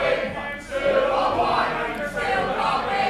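A wrestling crowd at a two-on-one match chants in a steady, swelling roar, the massed voices rising and falling in waves with no single speaker standing out.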